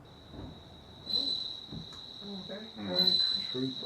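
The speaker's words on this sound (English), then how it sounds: "It's a cricket. Suzumushi. Homeogryllus japonica" A steady, high, bell-like trill of a Japanese bell cricket (suzumushi) rings continuously while voices murmur softly underneath.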